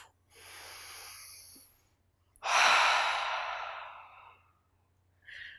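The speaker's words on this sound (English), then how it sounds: "Inhale through the nose and big exhale out the mouth." A cleansing breath during a yoga practice: a long, strong exhale out through the mouth swells up after a softer breath and fades over about two seconds, close and clear, with a short breath noise at the end.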